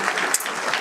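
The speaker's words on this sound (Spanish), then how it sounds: "denle un aplauso al Rey de Reyes" Brief burst of congregational applause at a church worship service, a dense wash of clapping hands lasting under a second with no break.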